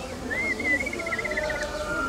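String instruments such as violin and cello imitate birds at a concert in Saint-Louis, Senegal, with a wavering, chirping high melody sliding over a sustained lower tone and soft background ambience.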